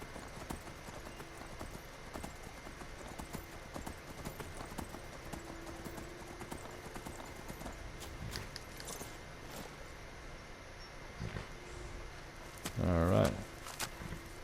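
Horse hooves clip-clop steadily in the Skyrim video game, a continuous walking rhythm under low ambient game sound, with a louder burst of movement near the end.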